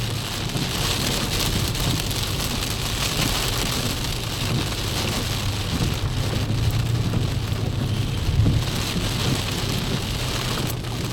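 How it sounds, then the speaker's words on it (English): Steady rain falls on surfaces, a dense continuous patter heard up close, with faint wind and a soft low rumble, no voices. "it is raining up in here"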